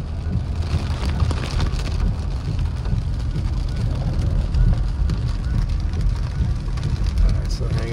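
Heavy rain from a thunderstorm in Big Bear, California, steadily pounding a vehicle from inside with a continuous loud roar and dense drumming of drops throughout, mixed with low road and engine rumble.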